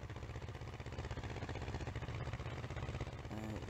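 Tractor engine idling in Farming Simulator 19, a steady low rumble that runs unbroken and fairly loud throughout, with a faint tonal whine rising near the end.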